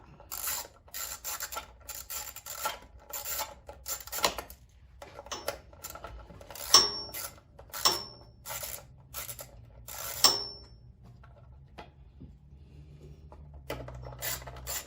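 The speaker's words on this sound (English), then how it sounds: "Takes longer to remove these screws than it does to do the whole conversion." Screws being backed out of the cover of a Powerhorse 13000ES generator, a dry ratcheting and rasping that repeats in short bursts with brief pauses, close up, with a few sharp clicks and no talking.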